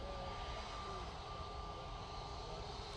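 An airliner taxiing at Manchester Airport, its engines giving a steady, distant whine and rumble that holds constant throughout.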